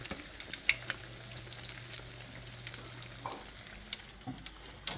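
Homemade apple fritters frying in hot grease give a steady soft sizzle with scattered crackles and pops, fairly quiet and with no talking.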